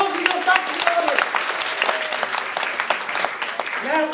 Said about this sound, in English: Give him a round of applause and go back to the audience